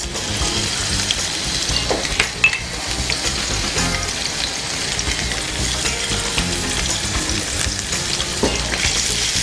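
Onion rings and mushroom slices sauté in a hot pan for a burger filling, giving a steady loud sizzle with occasional stirring scrapes and light clinks throughout, no voices.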